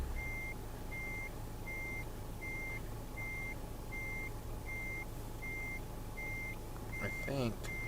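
A truck in Euro Truck Simulator 2 backs up with a steady series of evenly spaced reversing beeps over a low engine rumble, ending in a brief hiss like an air brake.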